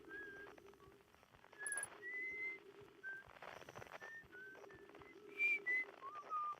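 A whistling character in the Outer Wilds video game whistles a faint, wandering melody of short tones, with soft ambient background and a few brief louder notes near the end.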